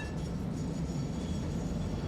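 A train rolling along the track in the Satisfactory video game, a steady low rumble of wheels and cars with faint metallic clinks, continuous and even throughout.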